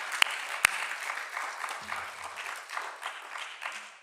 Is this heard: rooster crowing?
no